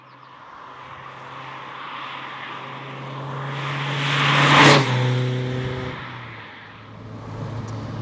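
An MG MGF car fitted with adjustable dampers set to their softest setting drives past, its engine hum swelling steadily to a loud peak as it comes closest, then fading as it moves away.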